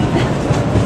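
Disneyland Railroad train rolling along its track in California, a steady low rumble with faint rhythmic rail clatter heard close up for under a second, no voices.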